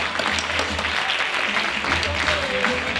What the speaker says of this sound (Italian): Un applauso, un applauso.